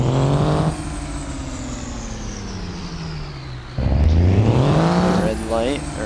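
A car engine in the BeamNG.drive driving game revs hard at high RPM on a track, loud and continuous with rising and falling pitch sweeps and gear changes, with a voice talking over it.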